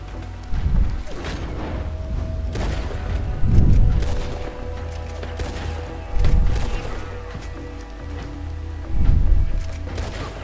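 Bursts of rapid machine-gun fire in Red Dead Redemption 2, several volleys a few seconds apart, booming low over a steady background hum.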